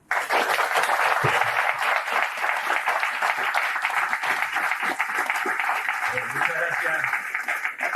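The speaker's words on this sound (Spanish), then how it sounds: "Le damos un fuerte aplauso" An audience at a lecture on citizen's income and universal basic income breaks into steady, full applause that holds at an even level for several seconds, with a few voices faintly mixed into the clapping.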